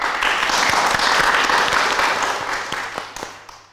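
A studio audience at a quiz show final bursts into loud, dense applause that holds steady, then tapers off toward the end.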